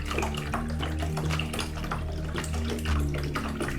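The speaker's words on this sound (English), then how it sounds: "I'm gonna fill the rest of this up with just water" Tap water pours steadily into a one-gallon hydroponic reservoir already holding a little Miracle-Gro, a close, continuous rushing fill with no talking.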